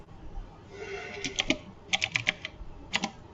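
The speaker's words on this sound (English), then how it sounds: "I am typing on my loud keyboard to hype this up" Rapid bursts of loud, clacky key presses on a computer keyboard, coming in irregular clusters with short pauses between them, close up.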